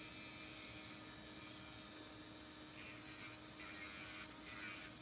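A steady high-pitched electric whir of an electric nail file's sanding band on nails, continuous and close, with a faint hum underneath and no pauses.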